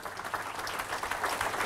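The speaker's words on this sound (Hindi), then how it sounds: "ताली बजाओ तो ढंग से बजा लो सर" Applause from an audience at a motivational training session in Mumbai, dense steady clapping from a crowd close by, alone without speech.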